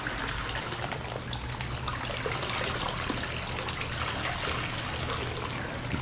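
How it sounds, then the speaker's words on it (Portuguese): Water drains slowly out of an aquarium in a steady, continuous trickle and gurgle, close and fairly loud, with no talking over it. "Ir soltando aos poucos pra água ir indo embora."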